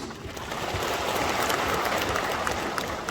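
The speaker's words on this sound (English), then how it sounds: "give a big round of applause to ourselves" A crowd applauds steadily at a party general convention, dense clapping filling a large room throughout, with no speech over it.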